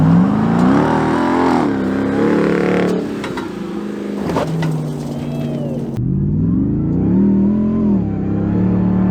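A 2022 Ram TRX pickup truck accelerating off-road, its engine loudly revving up and down in repeated surges with rumbling, recorded up close.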